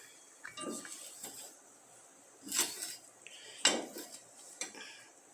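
Intermittent clinks and scrapes of a utensil against a bowl as thick dough for fried savory snacks is stirred to break up flour lumps, with quiet pauses between strokes.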